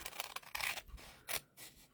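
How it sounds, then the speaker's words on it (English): Scissors snip and slice through paper during a papercraft class, with several quick crisp cuts and soft scraping close by. "We'll take our scissors, and we'll trim off that piece."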